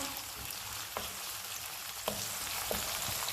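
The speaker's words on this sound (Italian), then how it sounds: "La cipolla sfrigola" Onion sizzles in hot oil in a frying pan on a gas stove, a dense steady crackle with a few soft clinks from stirring, close and alone.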